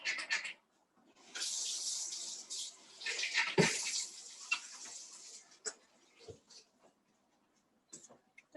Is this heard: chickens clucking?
no